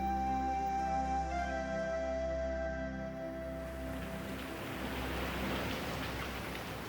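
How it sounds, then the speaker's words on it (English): Steady rain falling and gusting wind at night in an old churchyard, a continuous hiss of rainfall with a low rumbling wind bed, moderately loud and unbroken, with no voices. "At night, when the wind whipped and the rain pelted, Bobby huddled for shelter beneath the table"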